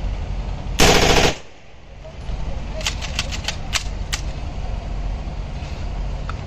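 A POF MP5 9mm submachine gun with extendible buttstock fires one loud, fast full-auto burst of about half a second close by, followed by echoing tail and later faint metallic clicks.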